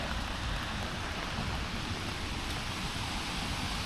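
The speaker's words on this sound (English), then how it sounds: "I wish it would stop raining." Steady rain falls in Ordos, a dense, even hiss of drops that holds constant throughout, with no voices.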